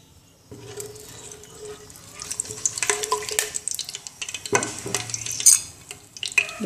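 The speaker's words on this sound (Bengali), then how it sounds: "আস্ত শুকনো মরিচ দেব," Whole dried red chilies frying in hot oil in a saucepan, sizzling and crackling with stirring and clinks of a utensil against the pan.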